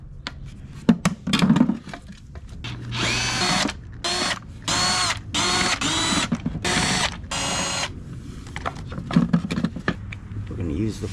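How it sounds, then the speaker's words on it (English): Power tool loosening bolts on the air filter housing of a 2011-2016 BMW 5 Series F10 with the N63 engine, several short whirring bursts in quick succession up close, with someone talking between them. "We're gonna take this bolts off."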